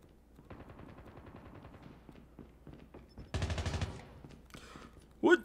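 AK rifle gunfire in the mobile shooter game COD Mobile, heard as steady rapid automatic bursts under game ambience, ending in a louder close volley.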